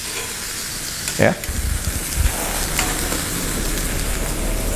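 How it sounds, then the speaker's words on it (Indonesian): Chicken marinated in salt and vinegar sizzles loudly as it sears in a hot pan, a constant frying hiss with a few stirring scrapes and one brief spoken word. "setelah kita marinasi garam dan cuka, kita panggang di atas pan"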